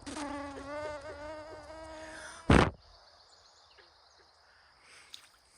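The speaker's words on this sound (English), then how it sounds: "Wish the mosquitoes would go away." Mosquitoes buzzing close by during an early morning outdoor walk, a whining drone for the first few seconds cut off by a sharp thud, then faint insect hum in quiet surroundings.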